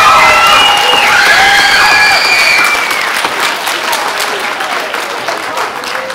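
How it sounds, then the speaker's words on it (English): A school concert audience applauds band and chorus students after a spring symphonic band performance: a dense, loud round of clapping with some cheering that gradually thins and softens. "if we can give them another round of applause"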